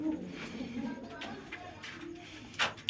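Pigeons cooing softly at close range, low murmuring calls under faint background noise, with a brief sharp rustle or flutter near the end.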